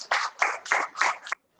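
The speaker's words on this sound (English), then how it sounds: "Give them a big applause for that." A handful of quick, separate hand claps from a small audience at a school tinkering festival, about five crisp claps close together that stop abruptly into silence.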